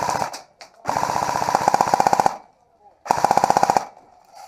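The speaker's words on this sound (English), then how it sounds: "He's going to be firing at me." Airsoft guns fire in two loud, close bursts of rapid rattling shots, the first about a second and a half long and the second shorter, separated by a brief quiet gap.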